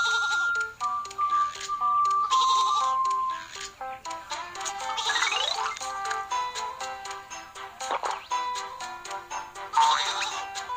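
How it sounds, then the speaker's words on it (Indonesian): Cartoon sheep bleat as a flock stands on a train track, several stylized bleats rising and falling over bright background music, with chimes and sound effects mixed in. "Kawanan domba ada di jalur."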